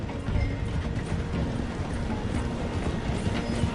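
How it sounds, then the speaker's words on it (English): A steam train in the video game Red Dead Redemption 2 rumbles loudly and continuously while slowing toward a station, with a dense rolling rattle of wheels and cars. "The train is slowing down to go through the station."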